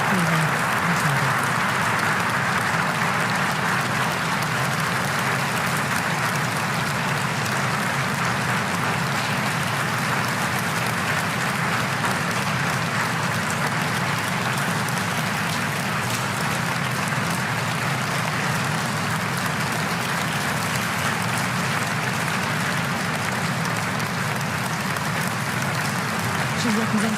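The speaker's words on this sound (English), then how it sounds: "And the applause continues." Sustained audience applause fills the hall at the Nobel Peace Prize ceremony after the Nobel lecture, a dense, even wash of clapping that continues without a break.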